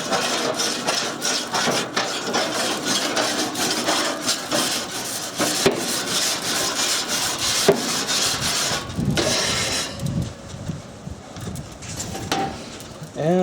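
A metal brush or scraper rasping across the grate of a propane barbecue grill in rhythmic, close strokes, steady for about nine seconds before thinning out into lighter scraping.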